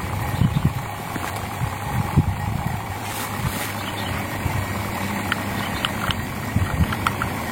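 Vacuum pump running steadily during installation of a Sharp AU-A5SSY air conditioner, a continuous mechanical drone with a few faint clicks and knocks, heard alone without talk.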